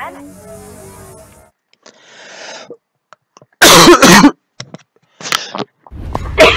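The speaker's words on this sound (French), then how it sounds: "Je tousse un peu." A man who is ill coughs several times in short bursts, some loud and harsh, with quiet gaps and faint game sounds between, over a video game session.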